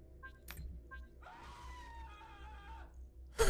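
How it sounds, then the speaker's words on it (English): A person screams in another room, a single drawn-out, muffled cry of about a second and a half at moderate level, followed by a sharp thud, with a couple of short tonal blips before it. "That sounded like somebody in the other room screaming."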